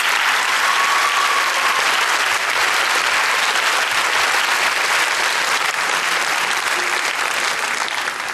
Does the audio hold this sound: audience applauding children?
yes